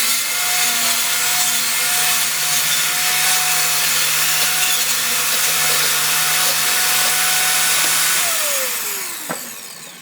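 A table saw blade cuts through plywood to form a 1/2 inch recess, a loud steady whine and rasp holding for about eight seconds before the pitch drops as the blade spins down.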